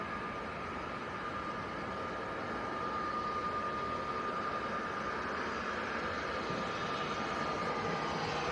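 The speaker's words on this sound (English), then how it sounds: "Finnair's just touching down on the other side in from Helsinki." A Finnair airliner in from Helsinki touches down on a runway across Manchester Airport, a faint, distant, steady broadband engine roar that holds evenly throughout with no talk over it.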